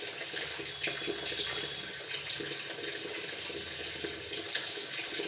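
Water is poured into a pan of fried daliya, giving a steady, quiet rush of running liquid that continues without a break for about five seconds.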